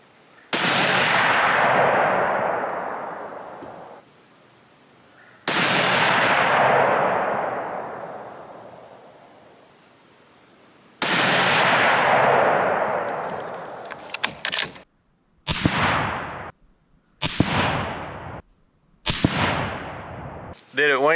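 Hunting rifle shots at a 100-yard target from a 6.5 Creedmoor, three loud separate reports each ringing out into a long decay, followed by several sharper, shorter cracks in quicker succession outdoors.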